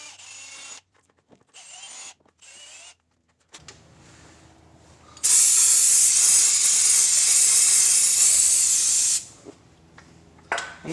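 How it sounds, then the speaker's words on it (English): Brake cleaner blasts from an aerosol can onto a Chevy Silverado front wheel hub in one loud, continuous hiss lasting about four seconds, with quieter clinks and pauses before it and a brief rustle after. "And then you just kind of clean it with a little bit of brake cleaner."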